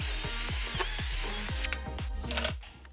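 A power drill with a 1/4 inch bit bores holes for a TV wall mount, whining loudly in a rapid series of pulsing bursts that stop near the end.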